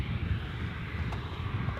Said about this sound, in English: 737 MAX arriving back